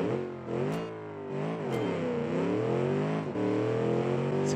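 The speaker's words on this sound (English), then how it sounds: "Nice acceleration." A 750-horsepower sleeper car accelerates hard at a 2019 sleeper challenge test, its engine note rising loud and close through sequential gear shifts, each shift marked by a brief dip before the pitch climbs again.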